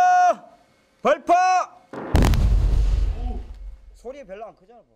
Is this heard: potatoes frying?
no